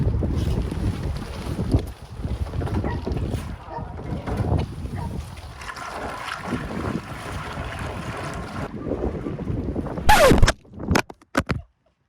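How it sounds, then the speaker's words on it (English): Strong gusty wind batters the microphone outdoors on a small pecan farm during harvest, a loud continuous low rumble and buffeting, ending with a few sharp knocks and clatters. "See, wind is insane."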